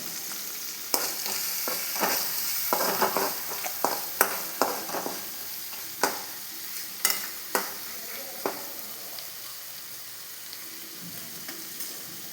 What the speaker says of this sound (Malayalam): ഞാനൊരല്പം മുളക് പൊടിയും കൂടെ ഇട്ട് കൊടുക്കുന്നുണ്ട് ഇതൊന്ന് മൂപ്പിച്ചെടുക്കാം